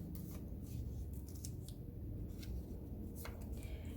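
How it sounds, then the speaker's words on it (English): Scissors cut a green paper circle in half for a ladybug craft, with a series of quiet, crisp snips over a steady low background hum. "So I will cut the green circle"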